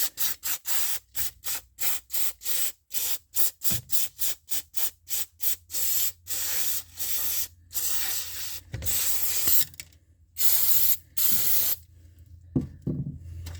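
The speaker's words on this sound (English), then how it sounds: "Some carb spray." Repeated short bursts of carburetor cleaner spraying from an aerosol can onto an old lawn mower carburetor, rapid on-off pulses at first, then longer sprays, close and loud.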